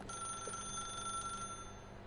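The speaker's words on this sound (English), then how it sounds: "Do I pick up the phone? I might just leave it ringing." A telephone rings steadily with a sustained electronic tone throughout, moderately loud against a quiet room with no talking.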